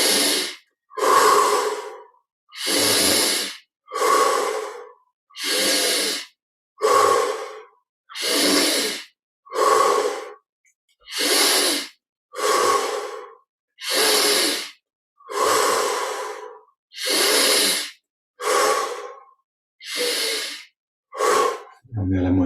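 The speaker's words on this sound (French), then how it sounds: "On prend 20 respirations aussi profondes que possible." Deep breathing in through the nose and out through the mouth during a guided meditation, with about fourteen long, even breath cycles in steady rhythm, close and clear with no talking over them.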